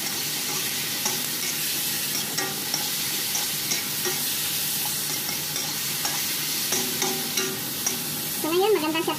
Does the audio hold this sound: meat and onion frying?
yes